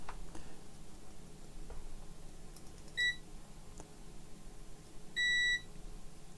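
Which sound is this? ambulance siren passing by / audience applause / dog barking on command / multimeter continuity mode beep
multimeter continuity mode beep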